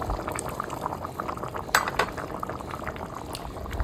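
Water with rice and lemon juice bubbling at a steady rolling boil in a pot, a dense continuous burble with occasional louder pops, close by and without any talking.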